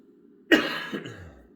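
A single sharp cough close to the microphone, followed by a softer second exhale, against a faint low hum.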